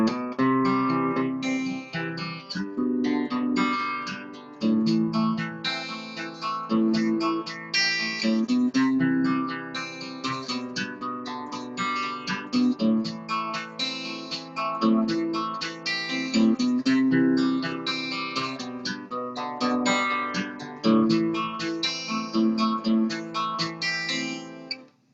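Guitar playing the picked chord pattern of a song, tuned a half step up, with steady arpeggiated notes ringing loud and close for about 25 seconds without talking.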